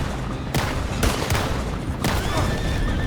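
Gunfire from Red Dead Redemption 2 during a shootout near a train: three or four loud, sharp shots at irregular intervals ring out over a constant rumbling, windy background, with no talking.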